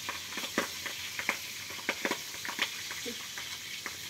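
Steady hissing of fish frying in oil, dotted with frequent sharp pops and crackles at an irregular pace.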